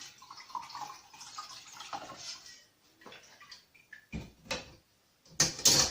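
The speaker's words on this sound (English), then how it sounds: "So we're going to sieve this into a kilner jar." Bone broth stock pours through a sieve into a kilner jar, with soft intermittent trickling and splashing that swells into louder spatters and a final clink near the end.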